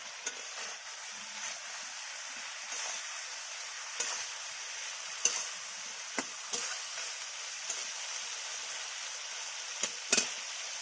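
Okra sizzles steadily in a hot pan while a spatula stirs it, scraping and tapping at irregular intervals.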